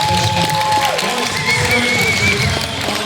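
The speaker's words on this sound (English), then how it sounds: "One more big round of applause for everybody who participated in the" A convention crowd applauds competition participants at Ani-Medford 2024, with a steady wash of clapping and cheering that fills the room and carries some faint tonal sounds.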